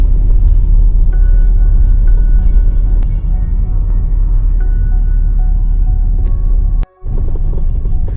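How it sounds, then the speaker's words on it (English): A camper van drives along a road around Loch Doon in Ayrshire, Scotland, its engine a steady, loud, low rumble heard from inside the cabin with no talk. "Then it was back in the van to drive as far as I was able to around the loch."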